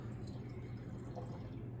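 Red wine is poured into a glass as a faint, soft trickle with a few light drips, low in level against steady background noise.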